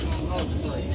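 A fast train rushes past at the Tennessee Valley Railroad Museum, a brief, loud low rumble with a rattling roar across one second.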